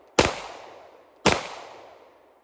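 Two sharp, loud gunshots from a Walther P99 pistol fired outdoors, about a second apart, each with a quick decaying echo and no talk.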